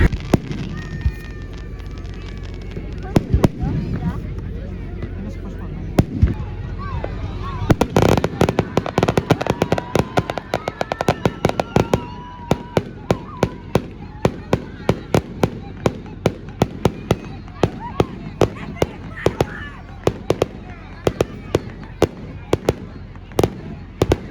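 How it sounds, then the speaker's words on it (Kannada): Fireworks and firecrackers burst in a rapid, irregular string of sharp loud bangs and crackles, sparse at first and then dense and continuous, with voices talking in the background. "ಚೆನ್ನಾಗಿದೆ ಅಲ್ಲ ಪಟಾಕಿ? ಫೈರ್ ವರ್ಕ್ಸ್ ಚೆನ್ನಾಗಿದೆಯಾ?"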